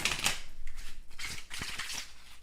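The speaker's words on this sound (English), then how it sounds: "Nice clean shuffle." A deck of tarot cards is shuffled in a clean riffle, giving several quick, crisp bursts of fluttering card edges up close, with no talking.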